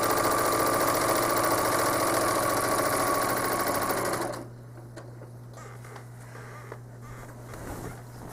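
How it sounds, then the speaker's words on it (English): A home sewing machine stitching in the ditch on a quilt, loud rapid mechanical whirring for about four seconds, then it stops, leaving a low hum with faint clicks and handling noises. "stitching the ditch in the top isn't a big deal"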